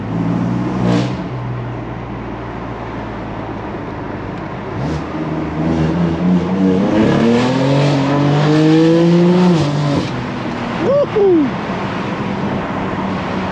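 BMW M4 engine and exhaust, loud throughout, with rising revs and harmonic sweeps as it accelerates through gears, a sharp shift blip near the end, heard from inside the car.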